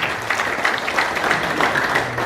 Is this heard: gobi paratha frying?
no